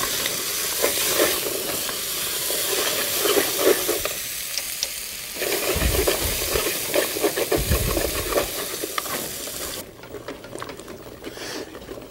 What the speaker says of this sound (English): We're going to saute all these vegetables together for about 5 minutes.